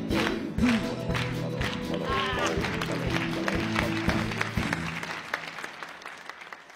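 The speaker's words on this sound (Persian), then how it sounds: "بریم تشویق" Studio audience applause at a Persian TV comedy show, a dense burst of many hands clapping together, loud and sustained before thinning and fading out, with a voice speaking over the start.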